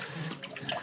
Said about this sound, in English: you should also verify that you're getting flow out of your waste hose